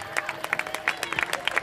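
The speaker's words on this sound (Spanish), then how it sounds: "Fuerte el aplauso." Crowd applause and cheering at an outdoor carnival murga show in El Calafate for a troupe of children, lively uneven clapping with shouts mixed in, brief and fairly near.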